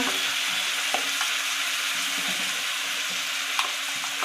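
Ginger, garlic and chilli powder frying in a pan with pumpkin: a continuous bright sizzle, close and fairly loud, with a few soft clicks of stirring scattered through it and no voices.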